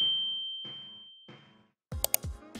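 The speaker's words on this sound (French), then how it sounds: "activer la cloche de notification" A notification bell dings in a series of bright chime tones that ring and decay one after another, ending with a few short clicks and pings.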